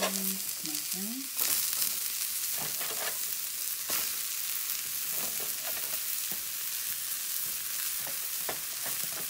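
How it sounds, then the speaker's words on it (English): A single portobello mushroom sautéing in a pan gives a steady, close sizzle throughout, with intermittent clicks and scrapes from stirring and a brief tonal clatter at the start. "This is just one portobello mushroom that I'm adding in here, and then I'm just going to saute it."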